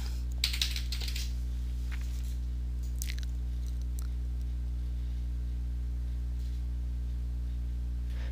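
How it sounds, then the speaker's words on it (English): A search query typed on a computer keyboard: a quick flurry of key clicks in the first seconds, then a few scattered taps, all fairly faint over a constant loud electrical hum, with no voices. "So I'm going to type in non-profit and technology."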